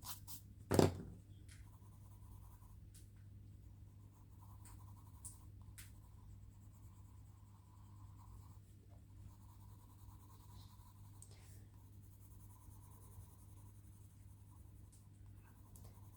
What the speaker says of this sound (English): pressing harder and harder with these pencils